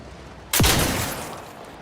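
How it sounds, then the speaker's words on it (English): A single gunshot rings out in the video game Outer Worlds 2 as crabble eggs are shot up, a sharp close crack with a descending whine and a decaying rumbling tail, otherwise quiet. "Let's shoot up some crabble eggs."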